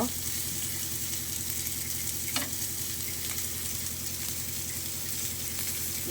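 Fish fries in a pan topped with curry leaves, giving a constant, even sizzle and bubbling hiss throughout, with a single brief tap partway through.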